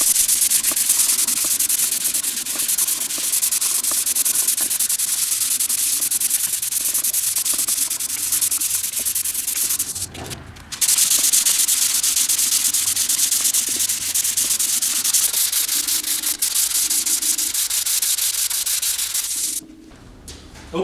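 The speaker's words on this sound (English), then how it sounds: "Let it cure, sand it down," Glaze on the instrument panel of a 1948 Silver King tractor being sanded, a loud, continuous rasping rub that runs nearly the whole time, pauses briefly twice, with faint bird cooing in the background.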